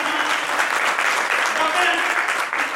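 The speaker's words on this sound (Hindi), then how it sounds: "चेयरमैन संजीव शर्मा जी, जिनके लिए एक बार मैं चाहूंगा जोरदार तालियों से" An audience at a company event in Greater Noida applauds loudly, with thick, continuous clapping that holds steady across the whole moment. Some voices are faintly mixed in.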